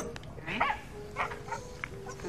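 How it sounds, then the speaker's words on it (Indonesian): A dog barking a few times, short faint barks with gaps between them, heard against a noisy background at low level. "lamunan Meadow disadarkan oleh gonggongan anjing milik Skyler"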